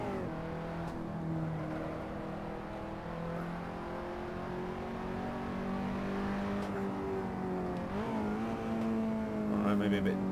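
Race car engine in Assetto Corsa droning steadily through gear changes, with sharp heel-and-toe throttle blips rising near the end, loud and continuous under a faint voice.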